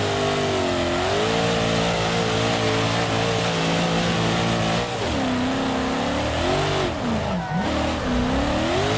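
A video game car engine revving hard against the rev limiter, a loud, sustained droning whine that holds its pitch and then wavers and dips as the revs bounce, alone with no talk.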